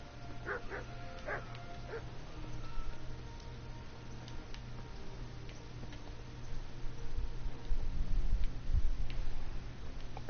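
A puppy barks in short, sharp yips, with several quick barks clustered near the start and scattered ones later. It is fairly close, over a low steady background hum and light ticking.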